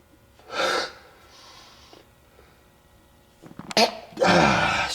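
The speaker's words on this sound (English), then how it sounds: "Excuse me, had to sneeze." A single sharp sneeze bursts out near the end, preceded by a quick inhaled gasp, with quieter rustling and a brief breathy sound earlier.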